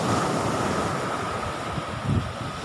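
Strong wind and rough sea waves at Nong Bua beach roar as a loud, steady wash, with gusts buffeting the microphone and no talking.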